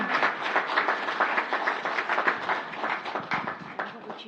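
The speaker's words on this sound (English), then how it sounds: "Let's give him a round of applause." A council meeting audience gives a police officer of the year steady, sustained applause, with dense clapping that fills the room throughout.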